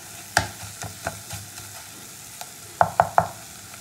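Spice masala for Bhola fish kosha stirred and fried in a pan, with sharp spatula scrapes and knocks against the pan over a soft sizzle, a quick cluster of three near the end, close and alone.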